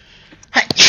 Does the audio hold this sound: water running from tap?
no